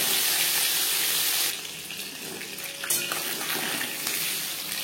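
Marinated shol fish sizzles in hot refined oil, a loud, dense hiss at first that settles into a steadier, softer crackling sizzle after the fish goes in.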